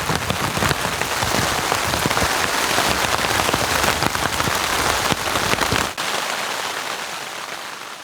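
Steady, dense rain falls outdoors in Wyoming during a spring bear hunt, a loud continuous hiss of drops on the ground and surfaces that cuts off abruptly near the end, leaving a softer lingering patter.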